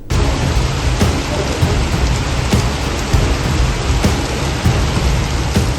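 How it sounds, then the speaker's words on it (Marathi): Heavy unseasonal downpour in Sawantwadi in the Konkan region, with thunder: a dense, steady roar of rain fills the whole clip, broken by several sharp, loud cracks and rumbles of thunder, with no voices. "सावंतवाडीतही आज मुसळधार पाऊस कोसळत आहे"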